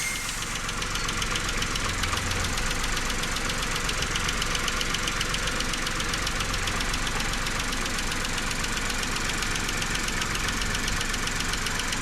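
A Skoda Rapid 1.2 petrol engine running after a timing chain replacement, a steady idle with an even, rapid ticking rhythm and constant hum, heard close up throughout with no speech.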